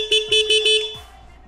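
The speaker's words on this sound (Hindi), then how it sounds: "और हॉर्न देखो" A small bicycle horn gives four quick toots followed by a slightly longer honk, close by and fairly loud.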